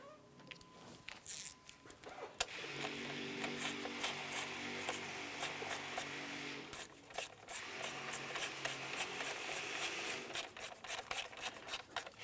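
Nuts are snugged down by hand on the timing belt area of a 2001-2005 Honda Civic engine, giving close, quiet ratcheting and scraping with bursts of rapid clicks and no talking.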